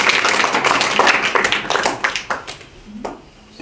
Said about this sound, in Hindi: आपकी भरपूर तालियों में इनका इस्तकबाल करते हैं